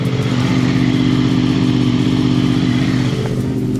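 A Honda VFR motorcycle engine idles steadily up close, a continuous loud, even mechanical drone with faint clatter and no pauses, heard alone.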